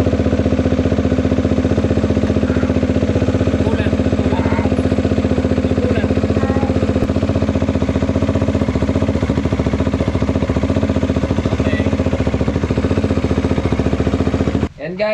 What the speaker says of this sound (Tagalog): papaanda rin natin siya para mag-circulate yung bubbles at yung coolant